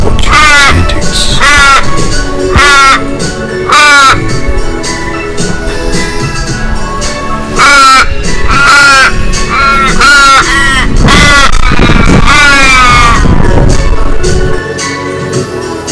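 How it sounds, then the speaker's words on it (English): Crow perched on a tent beside a motorcycle trip across Australia, cawing loudly and close in repeated harsh calls over strong background noise. "there was a very noisy crow that decided to sit up in my tent"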